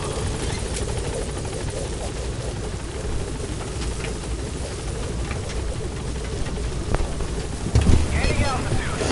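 The Pequod helicopter climbs in Metal Gear Solid V, a continuous rotor and engine roar with wind rush holding steady at high level, swelling briefly near the end.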